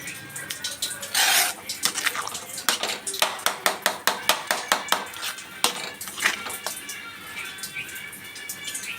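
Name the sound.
stirring a pot mixture to avoid lumps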